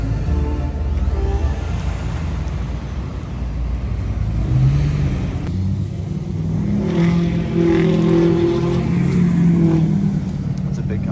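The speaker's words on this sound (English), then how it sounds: "That's a big Cummins." A big Cummins diesel truck engine rumbles loudly nearby, holding a heavy continuous drone that swells as it revs, with people talking over it.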